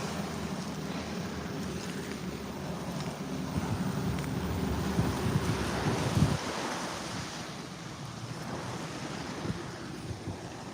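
Ocean waves wash onto a beach on a clear day, a continuous soft roar of surf mixed with wind buffeting the microphone, with a slightly stronger swell midway; no talking.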